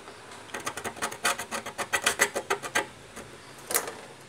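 A tool scrapes the contacts on an LED backlight strip from a TCL 40S6500FS TV, a rapid run of close, rasping strokes in a steady rhythm, then a pause and a few more scrapes.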